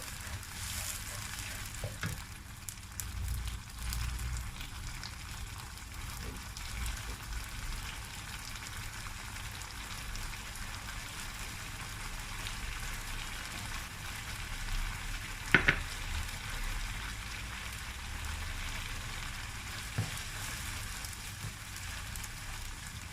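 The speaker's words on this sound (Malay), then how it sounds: "paste ni naik minyak dulu." Kalio chili paste frying in hot oil for a chicken gulai with long beans, a steady low sizzle throughout with a few sharp clicks and pops, no voices.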